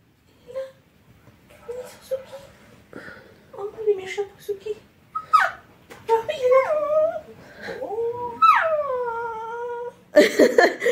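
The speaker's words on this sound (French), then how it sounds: "quand ils voient un chien à la télé ou n'importe quel animal, ils l'aboient" A dog howls and whimpers in a series of wavering, rising-and-falling cries, reacting to an animal on TV; people talk in the background, and a sharp burst near the end may be a bark.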